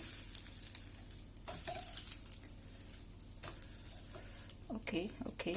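A tomato omelette sizzles steadily in a frying pan after being flipped, a soft continuous crackle with a few scraping and pressing sounds from a utensil near the end.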